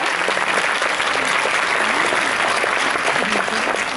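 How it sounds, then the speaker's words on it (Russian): A concert audience in a hall claps steadily for the full stretch, a dense, even wash of applause with no break. "Аплодируем."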